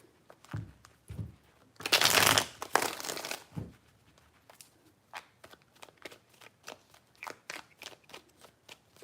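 Tarot cards being shuffled in three rounds, a loud riffling burst in the middle followed by a run of lighter, rhythmic card taps and flicks, close by with no talking.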